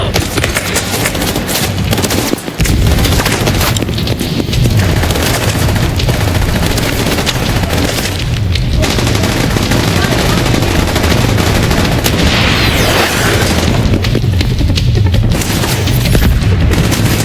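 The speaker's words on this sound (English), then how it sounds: "Grenade out!" Combat in The Division 2 video game: a thrown grenade blast among loud, continuous rattling gunfire and booming impacts, with dense, overlapping bursts throughout.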